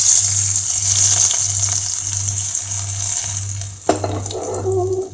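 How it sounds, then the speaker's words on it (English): Hot oil tempering with dry red chili and curry leaves is poured over Kerala pumpkin pachadi, a brief hiss and sizzle rising near the end above a steady background hum, with no voices. "Now I'm going to pour this over the pumpkin pachdi."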